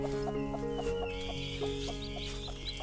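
Chicks peep and cluck steadily, close by, mixed with bursts of clucking from young chickens being gathered outdoors in the morning sun for brooding.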